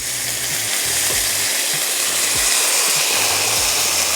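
Crushed tomatoes simmering down into a robust sauce in a pan for a Chicago-style pizza puff give a steady, even sizzle and hiss throughout, close and alone.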